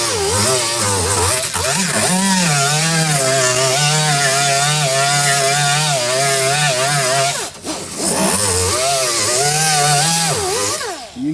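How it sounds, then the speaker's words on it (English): A 50 grit grinding disc strips paint from a car body panel, a loud, close, steady high whine with a wavering pitch that briefly drops out near the end before resuming. "I'm using a 50 grit grinding disc because I don't want to really grind any"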